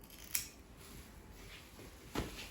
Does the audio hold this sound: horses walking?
no